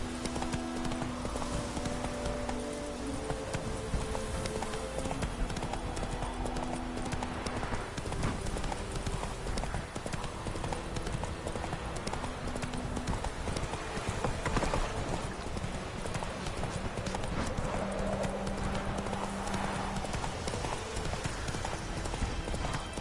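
Hooves of Roach, a horse in a video game, clip-clop in a steady continuous rhythm throughout, moderately loud, with a faint background of game ambience.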